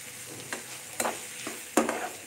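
Raw mango chitranna seasoning fries in a pan, a soft steady sizzle broken by a few sharp clinks and scrapes from stirring, close and fairly quiet with no talk.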